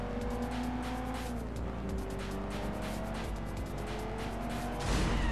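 A car in the video game Sleeping Dogs drives steadily with a continuous engine drone and road noise, briefly swelling louder near the end, with no voices.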